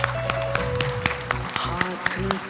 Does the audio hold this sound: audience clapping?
yes